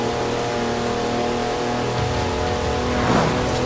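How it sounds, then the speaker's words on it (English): Four-wheel drive car on knobbly mud tyres in Forza Horizon 4, engine roaring steadily as it slides sideways, loud and close with a brief swell near the end. "That's a four-wheel drive car on mud tyres completely sideways."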